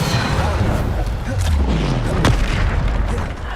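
Booming Bombarda spell blasts in the game Hogwarts Legacy thud and rumble heavily through combat, with other spell effects and voices mixed into the loud, continuous din.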